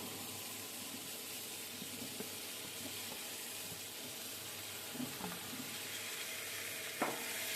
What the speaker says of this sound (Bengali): হালকা হালকা নাড়বো, সবসময় যে নাড়তে হবে এরকম নয়, একটু নেড়ে নিলাম